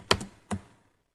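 Two quick keystrokes on a computer keyboard while writing a C program, crisp, close and isolated with a short pause between them.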